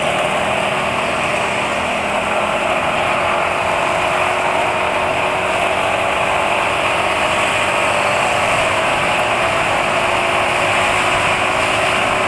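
Yamaha NMAX scooter engine revving steadily and loudly up close, the throttle opened gradually from small to wide with a constant high-pitched whine and no pauses.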